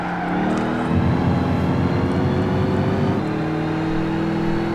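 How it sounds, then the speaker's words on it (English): A supercharged six-speed big block truck engine in Gran Turismo 5 revs up into a loud, gritty growl that holds for a couple of seconds before settling back to a steadier drone. "that's 6-speed big block power"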